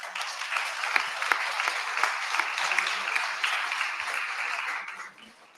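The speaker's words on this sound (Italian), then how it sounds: "anche Giulia si merita un applauso" Audience applauding in a hall, a dense, steady patter of many hands clapping together for several seconds before tapering off quickly at the end.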